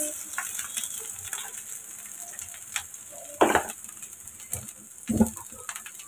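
Green chilies and onion fry in a hot pan with a steady, close sizzle while being stirred, with a few louder scraping clatters of the spoon breaking through.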